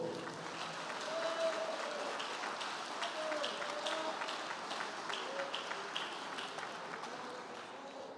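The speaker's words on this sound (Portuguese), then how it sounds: "Aplauda ao Senhor." A church congregation applauds in a steady, moderately distant wash of clapping that carries on for several seconds, with faint voices rising now and then through it.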